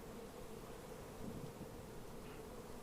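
Honey bee colony humming inside a rotten tree log, a steady low buzzing drone, faint and continuous with no talking.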